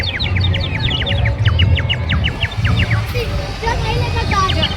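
Water-filled bird whistle toy imitating sparrow chirps at a fair, giving rapid repeated high chirps in bursts over steady crowd noise and nearby talk.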